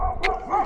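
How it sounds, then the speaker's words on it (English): Dogs bark outdoors during road work with a horse, two short quick barks close together, fairly loud and clear with no voices. "Yep, those dogs are still barking."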